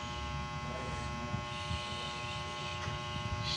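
A hair blower runs steadily through a pretend haircut at home, giving a continuous close motor hum and buzz with no breaks, faint background voices underneath.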